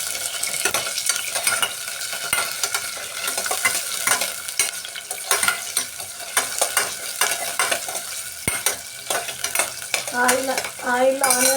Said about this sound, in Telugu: ఆయిల్లో ఆనియన్స్ అనేవి వేగుతున్నాయి.